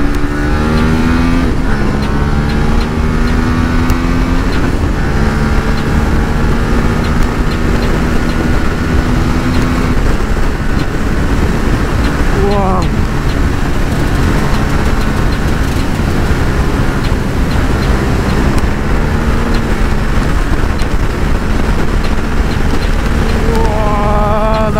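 A KTM 890 Duke motorcycle engine roars loud and close, climbing through the gears in repeated rising pulls with brief shifts between them, a constant high-speed drone with wind rush.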